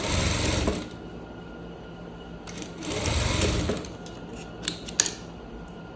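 Sewing machine stitching and backstitching a striped shirt at the side seam and armhole, a steady close mechanical whir that speeds up in bursts, with light clicks and handling noises between runs.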